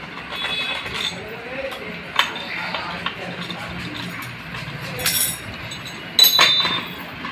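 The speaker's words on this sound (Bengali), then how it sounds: "ওখানে দুটো 6টা নাট আমি খুলে নিলাম" Nuts come off a TVS Ronin motorcycle with scattered metallic clinks and short taps of tools on metal, close by over a low background, with a voice talking at times.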